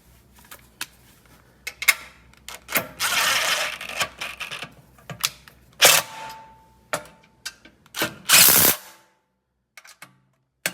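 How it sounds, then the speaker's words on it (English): A power tool tightens bolts on a Yamaha RMAX front skid plate, giving short loud whirring bursts among scattered metallic clicks, clanks and ratchet-like ticks, close by with no talking. "You want to get everything lined up before you snug up your bolts."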